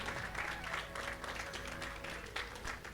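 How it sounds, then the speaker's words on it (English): An audience applauds at a community celebration and felicitation event, with steady, dense clapping filling the hall throughout, close and continuous without pause. "Again, a big applause for all the ladies"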